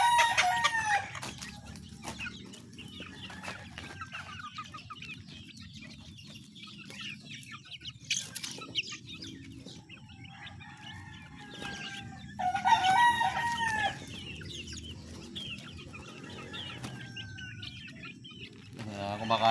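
Chickens and chicks at feeding time: a rooster crows among steady clucking and chirping from the flock, with a burst of louder calls partway through and faint voices in the background.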